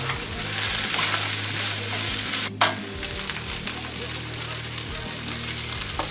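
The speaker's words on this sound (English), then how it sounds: "I'm going to grab the eggs and stir those in too." Eggs stirred into chicken fried rice with vegetables and garlic sizzle steadily in a hot pan, a continuous loud frying hiss with a brief break midway and no talking.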